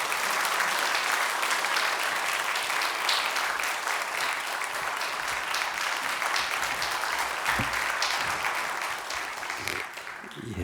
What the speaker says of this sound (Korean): 나오실 때 우리 박수로 한번 환영해 주시면 감사하겠습니다.